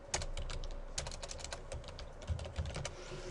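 Fingers type a command on a computer keyboard at a command prompt. The clicks are close and irregular, some quick runs and some single heavier taps, with no talking.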